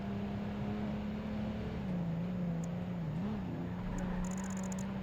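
A Nissan car in Project Gotham Racing 2 holds a steady, moderately loud engine drone with a brief pitch wobble midway, and faint ticks and beeps appear late on, with no one talking.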